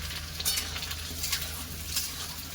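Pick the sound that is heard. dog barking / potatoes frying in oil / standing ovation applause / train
potatoes frying in oil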